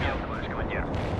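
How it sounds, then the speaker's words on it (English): Soviet artillery firing in the World in Conflict game, heavy booming and rumbling blasts under a dense, continuous wash of battle noise, loud and close throughout the short burst. "I really like this Russian artillery."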